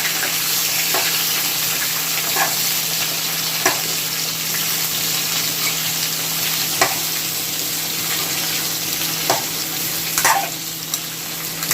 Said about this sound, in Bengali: তেলটা গরম হয়ে গেছে, এবার আমরা দিয়ে দেব আলু, ফুলকপি আর পটলটা আগে।